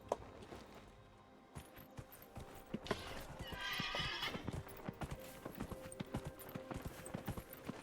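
Rhythmic hoofbeats of a horse ridden in the video game Dragon Age: Inquisition, a quick steady clip-clop with a brief whinny partway through, moderately loud.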